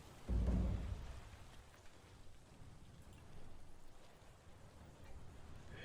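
Storm in the video game Tyranny: a loud low rumble of thunder at the start, fading into steady, faint rain hiss that keeps falling with soft swells.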